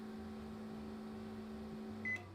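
A microwave oven cooking potatoes gives off a constant low electrical hum with a steady buzzing drone, then a short beep near the end, close by and otherwise quiet.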